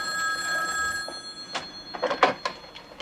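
An old-style telephone bell rings with a steady tone, while sharp knocks and clatters of household movement land over it in the later half.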